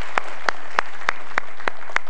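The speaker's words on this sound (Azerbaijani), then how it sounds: "Daha sürəkli alqışlar" Studio audience at a televised quiz show clapping in a steady rhythmic beat, seven evenly spaced claps over two seconds, loud and close with no talking.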